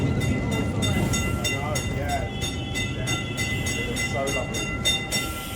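An old wooden tram running through city streets, with a steady rumbling roll, faint rhythmic clatter and squeals of wheels on rails, and people talking throughout over the continuous noise.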